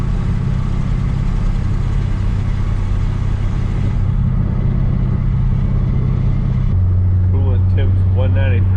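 An LS-swapped 1992 Mazda RX-7 FD idling roughly, a loud steady engine drone with an uneven, stumbling note close by, a voice speaking briefly near the end.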